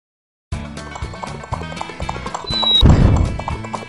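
A horse gallops in a video game with rapid, rhythmic hoofbeats, building to a loud whinnying neigh near the end, with no talk over it.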